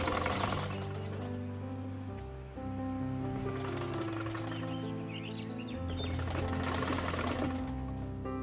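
A sewing machine stitches two pajama pieces together with a steady, close motor hum and rapid needle rattle, running continuously and pausing briefly before resuming, with no talking.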